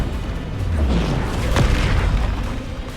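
A deep Bombarda explosion spell goes off in the Hogwarts Legacy video game: a loud, booming blast with a rumbling low tail that holds strong over three seconds, with no talking.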